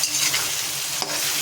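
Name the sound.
stirring and frying masala with potatoes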